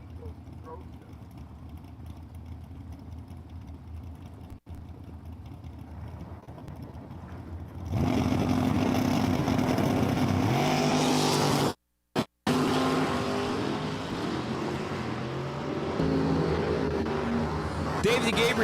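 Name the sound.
drag racing cars launching, including 84 Chevy El Camino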